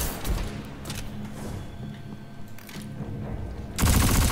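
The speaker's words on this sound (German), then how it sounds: "So, die knall ich mal zuerst mal alle ab." Gunfire sounds in the video game Destiny 2 while enemies are shot: repeated bursts of rapid shots and thumps, then a louder blast near the end, with no talking.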